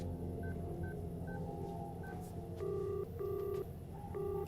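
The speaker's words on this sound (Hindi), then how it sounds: "बढ़िया, फोन लगाओ, मैं उनसे बात करना चाहता हूँ।" A landline number is tapped out in a police station: a string of short, even keypad tones in a steady rhythm over a low room hum, followed by a few longer ringback-style tones.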